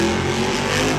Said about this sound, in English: Here's Joe Foley, El Toro Loco.